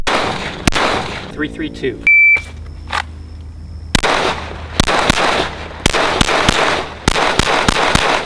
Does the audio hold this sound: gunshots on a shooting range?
yes